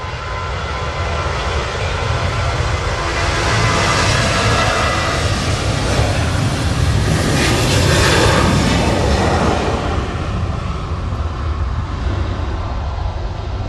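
A jet airliner roars on takeoff from Manchester Airport during a storm, a loud continuous broadband engine rumble that swells to a peak midway and then slowly eases, with no voices.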